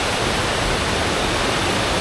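A Welsh waterfall roars steadily and loudly at close range, a dense, unbroken wash of falling water with no voices.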